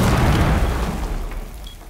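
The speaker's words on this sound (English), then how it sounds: "And they threw a grenade in." A grenade goes off indoors in Rainbow Six Siege, one loud deep boom that rolls out and decays over a couple of seconds.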